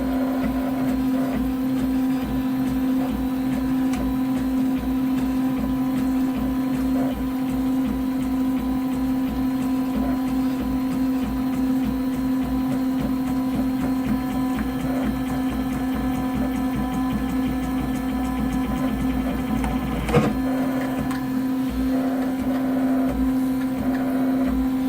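A Robin 3D printer running steadily at full speed, with a continuous motor hum and faint ticking stepper rhythm throughout, plus one brief sharper knock near the end.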